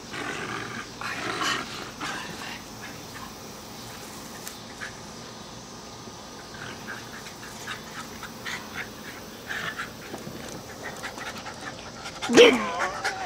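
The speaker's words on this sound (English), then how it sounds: "here we are playing with the puppies again." Jack Russell terrier puppies pant in quick, breathy bursts while playing tug of war, scuffling close by, with a louder growl-like burst near the end.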